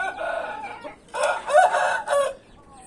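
Chickens cluck and a rooster crows in short, raspy bursts close by at a backyard aviary. The bird calls overlap one another, with brief pauses between them.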